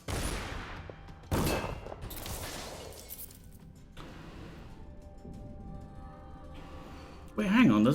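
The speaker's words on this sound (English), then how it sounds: "Well, maybe I'll just shoot you." Gunfire in the stealth video game Death of the Outsider, with a few sharp, loud shot bursts and a crash among quieter game ambience, and a voice talking over it.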